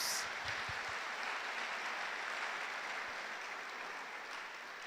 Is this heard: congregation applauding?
yes